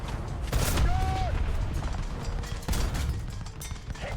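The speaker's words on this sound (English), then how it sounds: "Look how many explosions and things are going off here." Explosions and gunfire in the tank battle video game War Thunder: distant booms and bursts of fire rumble under a steady low roar, with faint talk over them.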